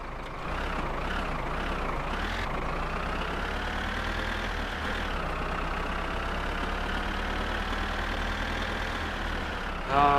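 A low, steady car engine idle in My Summer Car rumbles continuously with a deep throb at about 200 RPM, holding even for the whole stretch before a brief rise at the very end.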